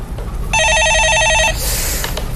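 A telephone rings on a Korean radio stock-market call-in show, one short warbling electronic ring lasting about a second over faint studio background noise.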